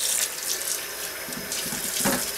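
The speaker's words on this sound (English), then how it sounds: "another important step is to rinse it out" Tap water runs steadily into a sink while soap is rinsed out of a wok, a continuous close splashing hiss with brief clatters of metal toward the end.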